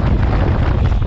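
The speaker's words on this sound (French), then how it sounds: "On a un peu de vent qui casse" Steady broadband wind buffeting on a BMW R1250RS motorcycle at speed, a continuous loud rush filling the whole short stretch with no gaps.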